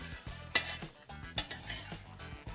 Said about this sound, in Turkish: Şöyle hop çeviriyorum